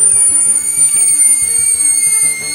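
Air backfed through an airbrush into a paint cup makes rapid rhythmic bubbling pops, loud and close, over a thin high whistle that holds throughout.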